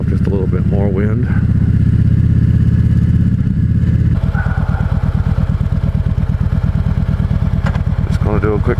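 Motorcycle riding at night on a cruise through town, a steady loud engine drone with rhythmic throbbing pulses and wind rush, the rider talking briefly over it near the start and end.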